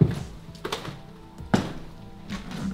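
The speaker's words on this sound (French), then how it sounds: "C'est les bruits là, c'est les marches là que j'ai entendu quand j'étais tout à l'heure là-haut." Heavy thuds on the stairs inside a house, a few separate thumps spaced irregularly with a loud one midway, heard alone in a quiet room.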